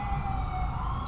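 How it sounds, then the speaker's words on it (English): An ambulance siren in the street-driving game GTA 5, a faint steady wail heard at a distance over low rumbling noise. "I believe that is the ambulance I hear"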